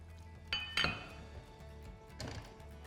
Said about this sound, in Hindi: अब खोलते हैं ढक्कन।